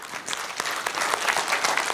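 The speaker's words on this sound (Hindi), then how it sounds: "जब आपकी तालियों में कुरकुराहट हो जाता है तो मैं समझ जाता हूं टेंशन में बज रही है" Audience applause from a seated crowd, steady dense clapping that fills the whole moment, fairly loud and close, with no talking over it.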